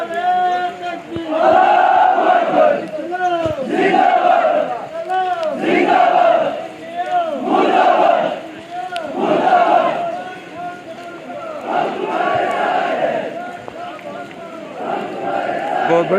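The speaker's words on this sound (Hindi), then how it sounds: "अवाम इस वक्त मोदी मुर्दाबाद और इंडिया मुर्दाबाद पाक फौज के हक में इस वक्त नारे लगा रहे" A large crowd at a rally after Friday prayers in Pakistan, held in support of the Pakistan army, chants slogans loudly in rhythmic, repeated bursts that rise and fall across the whole stretch.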